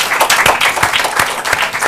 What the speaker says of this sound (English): Would you please applaud her?